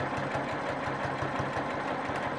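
A quilting sewing machine stitches along a feather plume on a whole-cloth quilt, a steady rhythmic needle thump over a constant motor hum.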